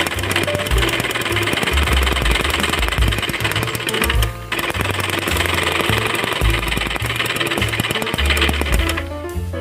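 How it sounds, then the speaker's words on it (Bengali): A sewing machine stitches border fabric to the right side of a child's umbrella frock panel, running loud and steady at close range with a rapid rhythmic needle chatter, pausing briefly near the midpoint before continuing. "এক পাটের সাথে এই যে কাপড়ের সোজা পিঠের সাথে এই বর্ডারের কাপড়টি সেলাই দিয়ে নেব"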